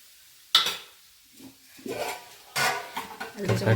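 Carrot halwa frying in ghee in a home kitchen, with bursts of sizzling and stirring clatter against the pan, loud and close, separated by short pauses.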